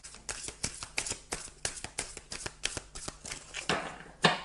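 A tarot deck is shuffled close up, with a fast rhythmic run of riffling card flicks that ends in a couple of louder slaps as a card is drawn.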